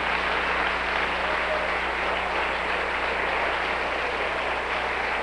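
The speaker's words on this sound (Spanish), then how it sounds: "atrévase con esas manos a darle el mejor aplauso que le ha dado a alguien en" A church congregation gives a sustained round of applause during a service, dense continuous clapping at an even loudness filling the room for several seconds.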